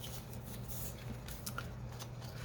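Scissors cut a piece of paper from a master board in half to make note pads, giving a few faint, brief snips over a low background hum.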